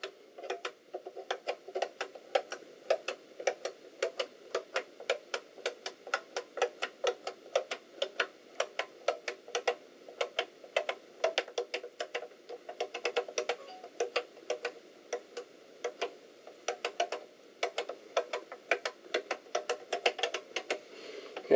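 Rapid, uneven clicking of keys on an IBM Beamspring 5251 keyboard, dozens of sharp close-up keystrokes in bursts of typing with no pauses for speech.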